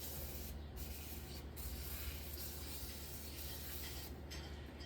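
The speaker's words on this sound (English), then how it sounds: "I'm going to start off by putting a little bit of WD-40 around the bead so it slips on the rim a little bit better." WD-40 sprayed around the bead of a lawn tractor or ATV tire, a close, steady hiss that runs for several seconds with brief dips between bursts.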